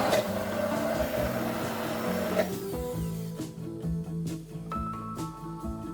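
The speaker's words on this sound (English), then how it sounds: "With an immersion blender, it's only going to take a few seconds." An immersion blender whirs through Caesar salad dressing with grated Parmesan, a dense, steady motor buzz for about two seconds before it stops, followed by lighter kitchen sounds.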